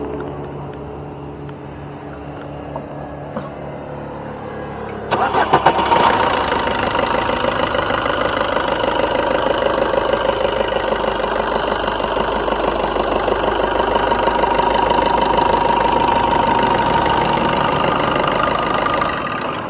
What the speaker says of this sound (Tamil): இப்போ வாங்க வண்டியோட இன்ஜின் சவுண்டு எப்படி இருக்குது அப்படிங்கிறத கேட்போம்